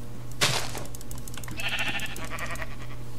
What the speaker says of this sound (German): Da ist ein Schaf.